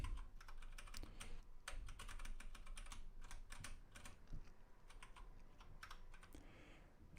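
Typing on a computer keyboard during programming, with quick irregular key clicks and clatter that are close up and fairly quiet, heard without speech.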